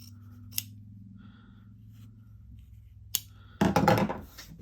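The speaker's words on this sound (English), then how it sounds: "I'm going to cut straight across and then more acutely." Fabric scissors trimming seam allowance on a two-piece shirt collar, with a soft snip near the start, another near three seconds, then a louder burst of crisp cutting at the end, against a low steady hum.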